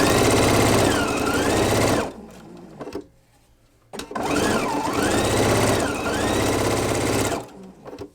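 Sewing machine stitching a quilt row: two loud, rapid runs of whirring needle strokes, each about two to three seconds, separated by a short pause with a few clicks.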